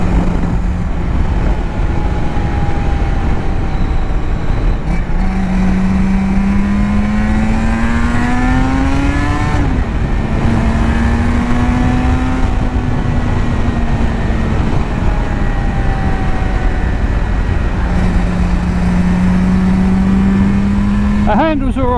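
A Suzuki RG500 two-stroke motorcycle fitted with Nikon exhaust pipes rides along, its engine note rising and falling through repeated gear changes under steady wind roar.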